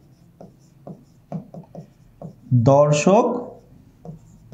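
Chalk or marker writing on a board during a chemistry lesson, short scratchy strokes in a loose rhythm, interrupted midway by someone speaking.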